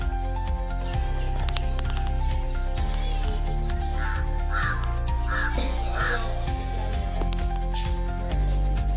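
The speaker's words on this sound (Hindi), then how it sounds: "फिर कौवे ने काव काव काव काव करके" A crow caws several times in short calls during a Shivratri festival day at home, heard over steady background noise and other activity.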